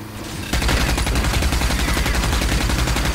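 Dense, rapid automatic gunfire from the first-person shooter game Rage, starting abruptly after a quieter moment and continuing as a loud, sustained burst of shots with no voices.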